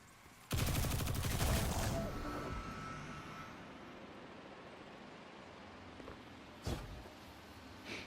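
Gunfire in Destiny as a player shoots a fuse: a loud burst of rapid shots lasting about a second and a half, fading into a lingering rumble, with one more sharp crack near the end.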